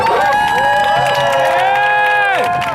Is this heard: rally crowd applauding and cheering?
yes